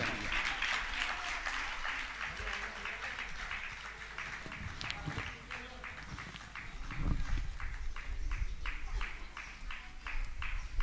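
Sustained audience applause at a Jain religious gathering honoring guests, a dense wash of many hands clapping steadily throughout with faint murmuring beneath.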